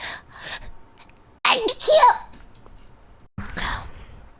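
A person makes a sneeze-like sound, a sharp burst of breath and voice, followed by short vocal exclamations; it may be an imitation.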